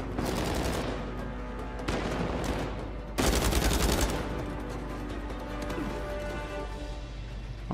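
Rapid automatic gunfire rattles continuously in a third-person shooter firefight in Uncharted 4, with a louder, denser burst of shots partway through over a constant backdrop of game noise.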